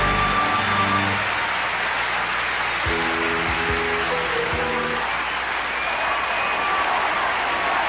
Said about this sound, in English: Great approval from the crowd tonight.